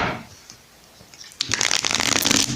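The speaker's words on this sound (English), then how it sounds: "let's shuffle this deck 3 times." A tarot card deck is shuffled close up, starting after a quiet moment with a dense run of crisp, rapid riffling and flicking cards that lasts to the end.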